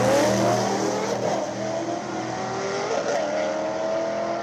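Street racer class race cars roar past on a drag strip with loud, sustained engine drone and shifting pitch as they accelerate, constant and close throughout, with no talking heard.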